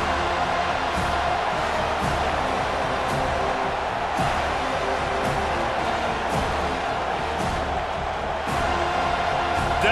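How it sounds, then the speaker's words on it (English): Continuous loud roar of a stadium crowd in EA College Football 25, Florida State against Florida, a dense, steady wall of cheering noise with scattered sharper whoops. "Decibels rising as the crowd gets behind this defense on 3rd down"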